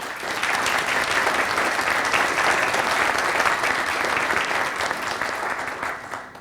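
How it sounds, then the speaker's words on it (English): Steady, loud applause from a conference audience thanking the event sponsors, sustained clapping filling the whole stretch before tapering slightly at the end. "let's have a round of applause for the sponsors"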